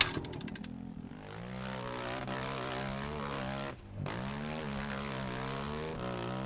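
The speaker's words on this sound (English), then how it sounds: "And then you guys will hear what I mean by the dirt bike." A dirt bike engine in the video game Scum drones steadily and revs up, with a brief dip in the middle before climbing again, continuous and fairly close, with no talking.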